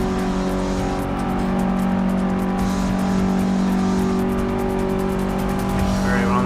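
In Forza Motorsport 6, a race car engine drones and revs loudly and steadily while tires squeal through a corner, with faint talk underneath.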